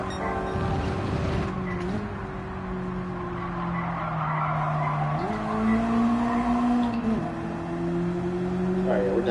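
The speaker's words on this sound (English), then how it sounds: "we're downshifting a second for this corner" A Mazda MX-5 Cup race car in Gran Turismo drones loudly, its engine pitch stepping through downshifts as it slows for a corner, with faint tyre squeal.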